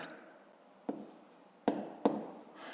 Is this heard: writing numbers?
yes